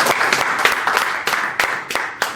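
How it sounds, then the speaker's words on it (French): Applause from an audience at a Paris event introducing a singer, a dense burst of clapping with some sharper claps near the microphone. "Sur vos acclamations, s'il vous plaît."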